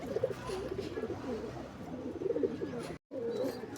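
A Malwai pigeon coos in low, repeated rolling calls close by, broken by a brief cut near the end, with faint background noise.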